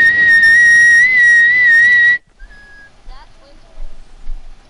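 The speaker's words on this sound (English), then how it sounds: "That's whistling." A person whistles one loud, sustained piercing tone for about two seconds, then stops abruptly, leaving faint shorter whistle fragments and quiet room noise.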